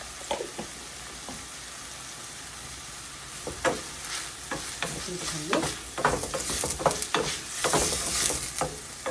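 Cumin seeds frying in a pan at the start of a prawn curry, with a steady close sizzle and irregular scraping stirs that grow busier and louder toward the end.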